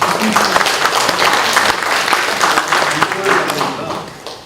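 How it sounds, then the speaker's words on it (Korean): A church congregation at a Sunday worship service breaks into dense, sustained applause that fills the room, with many hands clapping at once before gradually fading toward the end. "우리 박수 한번 치시기 바랍니다."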